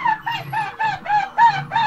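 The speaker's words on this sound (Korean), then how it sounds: "얘도 막 새소리 나는데요?" An animal at the Okinawa pineapple park gives a bird-like call, a rapid series of about six evenly spaced, chirping clucks, close and clear with no talk over it.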